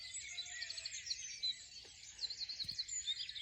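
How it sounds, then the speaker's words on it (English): Birds sing in a cottage garden at dawn on an April morning, a dense continuous chorus of high chirps and trills from several birds, moderately distant, with faint rustles beneath. "with the birds singing all around me"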